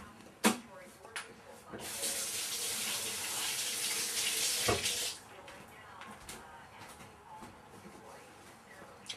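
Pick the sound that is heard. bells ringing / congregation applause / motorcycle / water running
water running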